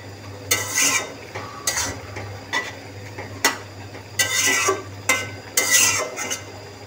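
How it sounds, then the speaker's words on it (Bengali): A spoon scrapes and stirs curry in a pan in repeated bursts of clatter and scraping, with a steady low hum running underneath and no talk. "এর মধ্যে ঢাকনা খুলে আবার হালকা একটু নাড়া দিয়ে দিই, নিচে লাগা যেতে পারে"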